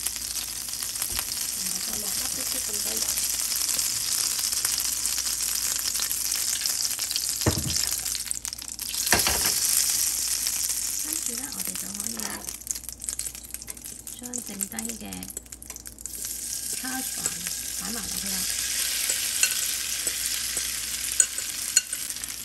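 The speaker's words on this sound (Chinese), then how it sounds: "我哋煎第二个啦" Grated potato hash browns fry in butter in a pan, giving a continuous loud sizzle with occasional scraping and stirring clatter, while a voice talks faintly in the background.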